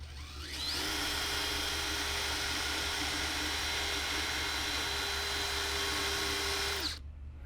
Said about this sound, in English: if I feel that drill bit get near the surface, I'm going to stop